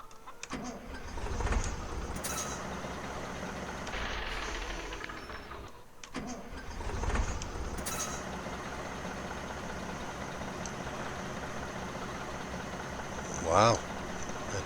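An old Farmer 108S tractor engine cranks, catches and settles into a rough running idle, with a couple of loud revs and surges early on before a steady chug, plus a brief clunk near the end.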